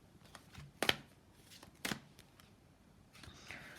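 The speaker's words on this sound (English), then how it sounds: "I'm going to just shuffle and I'm going to pick the top card." Tarot cards are shuffled in a few quick riffling bursts, close and fairly quiet, separated by brief pauses.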